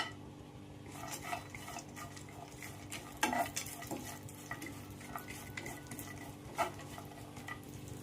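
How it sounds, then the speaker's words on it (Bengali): Cashews and other nuts fry in hot ghee in a pan, a soft steady sizzle under occasional spoon clinks and stirring, fairly quiet and close, with no voices. "ঘি গরম হয়ে গেছে, এখানে আমি কিছুটা কাজু আর বাদাম নিয়েছি, হালকা করে ভেজে নেব"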